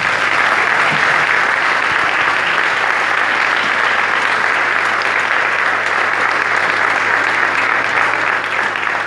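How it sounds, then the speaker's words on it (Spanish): A concert audience applauds a municipal band at its year-end show, steady dense clapping filling the whole stretch at full volume with no voices standing out. "gran aplauso."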